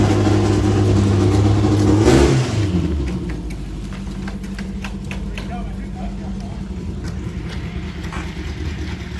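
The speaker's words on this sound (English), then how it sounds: "Yeah, they got the motor running." The engine of a 1959 VW 15-window bus runs, rising to a loud rev near the start and then settling into a lower steady idle, with people talking nearby.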